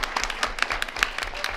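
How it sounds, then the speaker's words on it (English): A modest round of clapping from attendees at a school board of education public meeting, individual claps distinct and fairly sparse, heard at moderate distance in a quiet room. "you can give him a round of applause"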